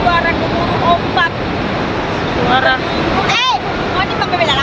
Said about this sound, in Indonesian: Menikmati suara gemuruh ombak.